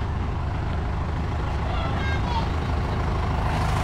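A jeep approaches on a narrow village road in Dinahican, Infanta, Quezon, its engine a steady low rumble with road noise close by, while people talk over it.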